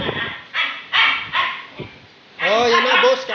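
Dogs yip, bark and whimper excitedly at feeding time, given dog food with milk, in sharp short bursts close by, mixed with a person talking.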